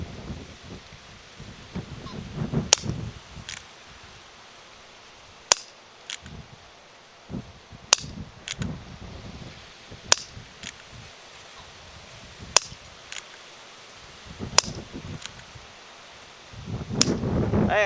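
BB and pellet pistols fired at pumpkins outdoors, a dozen or so sharp separate cracks spaced a second or two apart, each with a short thud or rustle after, over light wind noise with no talk.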